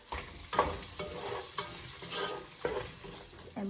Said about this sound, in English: Add your curry paste and cook for 2 minutes. Add your shrimps